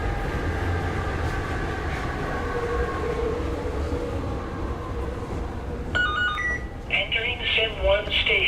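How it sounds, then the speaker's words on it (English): A bullet train in a virtual reality game rumbles and hums steadily, its low drone filling the space, then bright electronic chimes and tones ring out near the end as it pulls into a station. "We are now pulling into the rail station"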